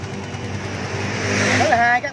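A used motorcycle's engine idles at a Vietnamese used-bike dealer, a steady low rumble with a smooth, even pulse that holds close and fairly loud for the whole stretch, rising slightly toward the end.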